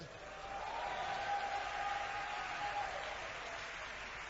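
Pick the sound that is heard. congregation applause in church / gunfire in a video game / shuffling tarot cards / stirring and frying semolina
congregation applause in church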